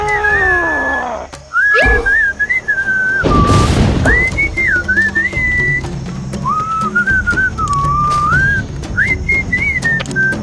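Whistled melody from the Sam and Max video game, a long wandering tune of sliding notes in several phrases, heard clearly after a brief burst of other sound near the start.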